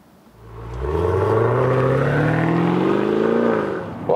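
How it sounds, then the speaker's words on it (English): A Maserati Levante Trofeo's power tailgate motor runs with a steady whine that rises gradually in pitch for about three seconds, then ends in a brief soft thump as the hatch shuts. "and then the hatch is closing."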